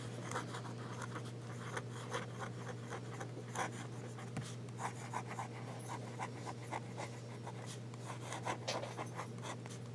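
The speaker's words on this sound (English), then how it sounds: "So this is how it writes, and no problems writing." Pilot G78 fountain pen writing on paper, a faint, steady scratchy rubbing with small strokes and ticks, close and quiet against low background hum.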